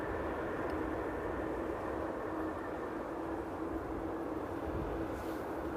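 Aeromexico airliner landing at Amsterdam airport at sunset, a steady loud engine roar with deep rumble holding level throughout, no voices.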